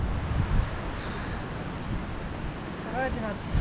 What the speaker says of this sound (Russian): В общем, поднялся ветер. Настолько сильный